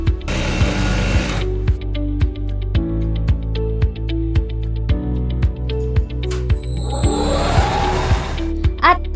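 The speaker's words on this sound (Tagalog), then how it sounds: "dito namin yan ginagawa ng saglit lang gamit ang industrial machine. Dito natin tinatahi ang mga orders." An industrial sewing machine stitches pillow orders in a workshop, its rapid needle chatter running in steady bursts with regular clicks, a loud noisy burst near the start and a whooshing pneumatic hiss toward the end.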